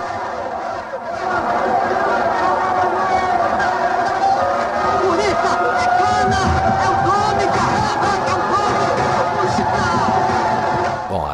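Excited crowd roaring and cheering continuously at a cockfight in a film scene, a dense, loud wall of hubbub and shouting with music-like tones underneath throughout.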